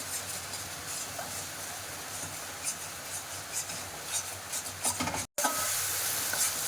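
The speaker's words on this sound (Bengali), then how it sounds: "এই যে মশলাটাকে একটু কষিয়ে নিতে হবে" Cashew nut spice paste sizzles steadily in a hot pan while a utensil scrapes and stirs it, with a brief break near the end.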